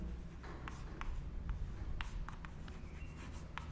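Writing on a board during a physics lecture on capacitors makes a quiet series of scratchy strokes and taps at irregular intervals, with no voices.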